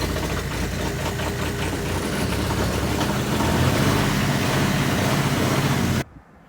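A machine's engine running at a rough, knocking idle outdoors in North Dakota, loud and close and steady for about six seconds before cutting off abruptly.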